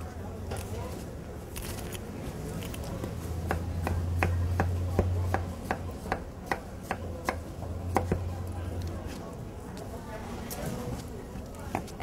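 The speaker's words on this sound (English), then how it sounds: "When I'm cutting plums, you just want to cut around and then twist and pick out the pit." A knife slices around plums and twists out the pits on a kitchen board, giving a series of sharp, close cutting clicks and taps over a low steady hum.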